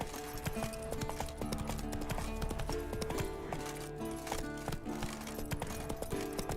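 Horse hooves clip-clop steadily in The Witcher 3 on Skellige, a fast galloping rhythm under game music, fairly faint, with no talk.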